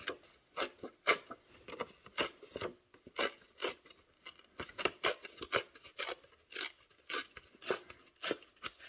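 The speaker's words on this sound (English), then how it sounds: "The only thing I'm going to do here is just tear this just a little bit." Confetti paper is torn and crinkled by hand in about twenty short, sharp rips at an irregular rhythm, close and quiet, with no talk.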